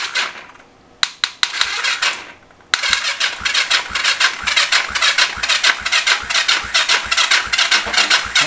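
A Yamaha XS400 motorcycle engine is cranked by a weak starter motor: a couple of short bursts, a pause, then a sustained, laboured rhythmic churning that pulses steadily without catching.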